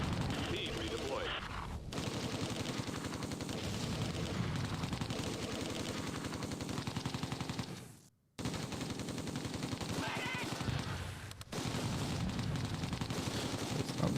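Heavy gunfire from the Close Combat 2 war game, dense machine-gun bursts and rifle volleys rattling almost continuously, with a brief drop-out partway before the loud barrage resumes.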